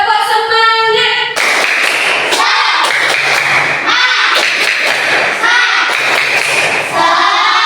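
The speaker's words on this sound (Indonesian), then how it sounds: "Tepuk semangat." Classroom students doing a rhythmic group clapping cheer led by a teacher: a loud run of claps and thumps in a steady pattern with voices chanting along, filling the room.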